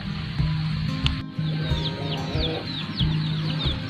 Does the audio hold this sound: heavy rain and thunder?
no